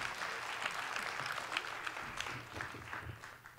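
A concert-hall audience applauds a singer in sustained, dense clapping with scattered sharper claps. The applause is faint and distant and rises slightly toward the end.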